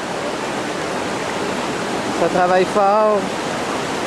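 Big waves, up to four or five feet, surge in a steady loud roar of wash and spray throughout, with someone speaking briefly over it near the end.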